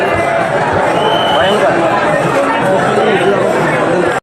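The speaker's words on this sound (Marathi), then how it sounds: "गर्दी अशी भयंकर" Dense crowd of pilgrims at Pandharpur, a continuous hubbub of many voices at steady loudness throughout, with no single voice standing out.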